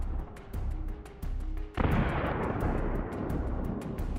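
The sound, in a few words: Russian IFV catching fire and exploding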